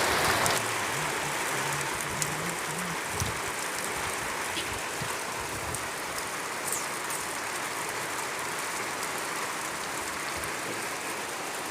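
Heavy rain pours steadily in Noakhali, a dense, even hiss of drops on surfaces with occasional louder splashes, continuous throughout.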